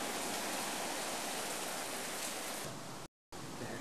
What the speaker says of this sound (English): even in paradise it does rain.